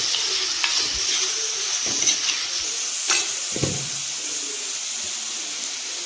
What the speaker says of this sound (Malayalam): തക്കാളി, പച്ചമുളക്, കറിവേപ്പില എല്ലാം ഇട്ടിട്ട് നല്ലോണം ഇളക്കിയിട്ട് നല്ലോണം ഇളക്കുക.